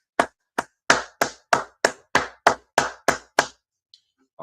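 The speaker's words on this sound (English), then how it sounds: "Clap it up." A small group claps in sharp, evenly spaced single claps, about ten crisp hits in a row at close range, then falls quiet.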